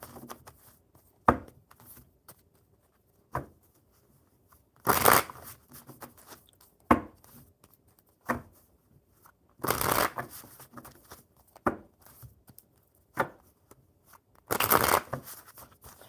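A deck of cards is shuffled in several separate short bursts of riffling and clattering, with quiet pauses between them and a faint background in the gaps.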